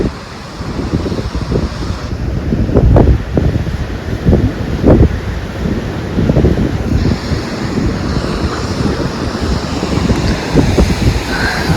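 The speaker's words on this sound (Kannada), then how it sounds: "ಭಯಂಕರ ದೊಡ್ಡ ದೊಡ್ಡ ಅಲೆ ಬರ್ತಿತ್ತು." Huge ocean waves crash repeatedly at Kodi beach in Kundapura, with heavy surf roaring close by and strong wind buffeting the microphone throughout, no voices present.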